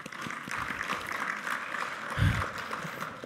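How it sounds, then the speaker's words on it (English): Applause for a colleague at a public policy meeting, a steady wash of clapping from the room lasting a few seconds, fairly soft and even, with a brief low thump near the end. "So a round of applause for Leslie."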